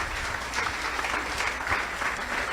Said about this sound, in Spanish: ¿Cuánto pueden dar un fuerte aplauso al Señor?